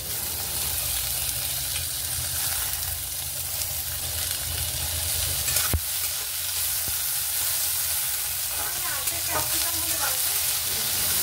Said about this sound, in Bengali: ভেজিটেবলসগুলো দিয়ে হালকা নাড়াচাড়া করে ভেজে নেব